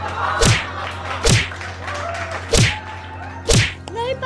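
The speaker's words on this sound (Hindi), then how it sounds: "नहीं पापा, मम्मी को मत मारो" Four heavy thuds of blows striking a person, spaced about a second apart in a staged domestic drama scene, loud and close against a quiet background.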